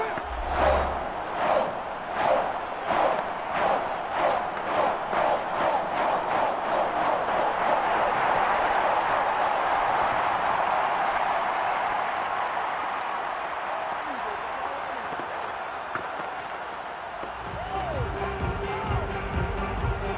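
Stadium crowd noise from the Madden NFL video game during a Panthers at Vikings matchup, a dense continuous roar with rhythmic chanting or clapping pulses that swells and holds steady.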